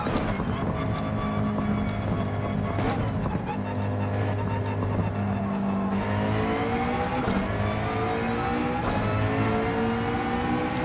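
A McLaren GT3 race car engine accelerates through a race, its loud droning pitch repeatedly climbing and dropping with gear changes, heard steadily from close by with some wind noise.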